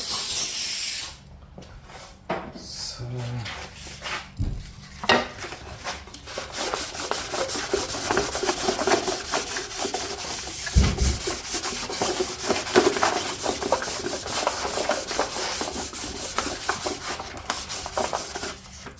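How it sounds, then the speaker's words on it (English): Fine 1200-grit sandpaper rubbed over the surface of a 2001–2007 Nissan X-Trail cylinder head during an engine overhaul for a head gasket fault, giving a steady, close, continuous scratchy rasp with brief pauses and no talk. "It's a 1200 sandpaper."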